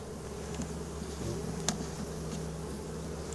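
Honeybees from a swarm buzz steadily and close, a continuous hum with no talk, holding at an even level throughout.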